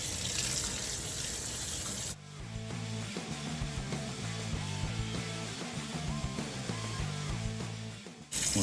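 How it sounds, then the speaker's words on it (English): Cold tap water running into a sink to rinse salted cucumber slices for bread and butter pickles, a steady close splashing stream that briefly stops and restarts at the end. "So what we want to do here is rinse this off real good."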